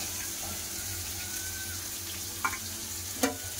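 Chopped onions fry in hot oil with radhuni, black cumin and two green chillies, a soft continuous sizzle with faint clinks of a spoon against the pan, no talk.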